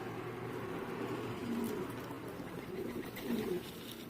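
Pigeons coo steadily at a loft during early-evening feeding on a hot day, with low, overlapping calls rising and falling in a continuous murmur and no talk.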